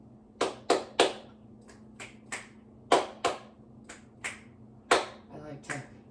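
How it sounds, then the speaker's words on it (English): About a dozen sharp, dry hand claps and finger snaps ring out one at a time in an uneven rhythm, close and fairly loud over a low steady hum, during a relaxation session. "I like to check in with my nervous system with some clap snaps, as I call them."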